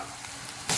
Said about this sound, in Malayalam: ഓയിൽ നന്നായിട്ട് ചൂടായി കഴിയുമ്പോൾ അതിലേക്ക് സവാള ചേർത്ത് കൊടുക്കാം